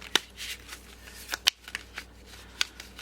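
A deck of cards kept in a tin gets shuffled by hand, producing several quick riffling bursts and soft slaps spaced irregularly, close and crisp with no talking.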